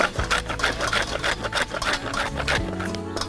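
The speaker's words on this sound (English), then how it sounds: "I'm grating the coconut," An old hand grater scrapes fresh coconut in steady, rapid rhythmic strokes, close and continuous, with low background hum and no speech.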